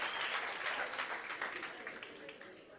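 Gala dinner guests applaud a contestant, a continuous wash of crowd clapping heard at a distance, fairly soft and tapering slightly toward the end.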